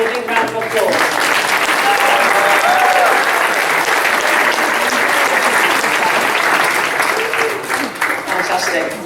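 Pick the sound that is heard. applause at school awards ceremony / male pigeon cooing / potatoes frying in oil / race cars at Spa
applause at school awards ceremony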